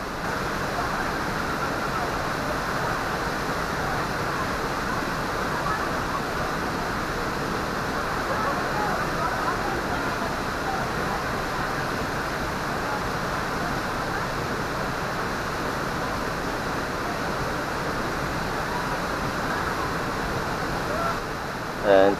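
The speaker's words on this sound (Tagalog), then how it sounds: "medyo malakas yung tubig dyan" Strong rushing water at Daranak Falls in Tanay, Rizal, a steady, loud broadband roar that stays unbroken throughout, with no speech over it.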